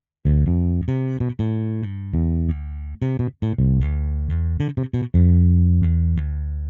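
A bass guitar from a VST software instrument played without EQ, a clean, sustained synthetic bass line of held and plucked notes with a grooving rhythm, loud and alone without voices.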